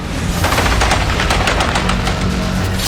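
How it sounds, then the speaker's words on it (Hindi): Machine-gun fire crackles in rapid, sustained bursts amid fighting between Taliban and Afghan army forces, loud and close with dense overlapping shots continuing throughout. "फायरिंग यहाँ पर चल रही है।"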